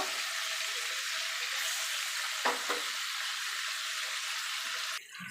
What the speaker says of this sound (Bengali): এবার আমি পনিরগুলোকে দিয়ে ভেজে নেবো